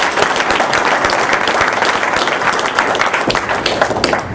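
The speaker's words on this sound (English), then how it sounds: "So a round of applause for Al" Loud, close applause from the crowd at a Cornwall River Kings hockey press conference, brisk dense clapping with sharp individual claps standing out, continuing unbroken throughout.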